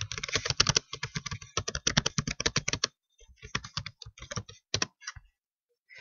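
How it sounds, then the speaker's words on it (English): Rapid, close keystrokes on a computer keyboard come in a fast run of clicks, pause briefly, then resume in shorter bursts before stopping, with no talking. "So for this slide, I'm going to type in Meet Farmer Brown."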